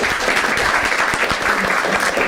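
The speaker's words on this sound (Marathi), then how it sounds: "एकदा टाळ्या होत्या दोघांसाठी." A Marathi stand-up comedy crowd claps in a brisk, even burst, with individual hand claps audible through the steady wash of applause.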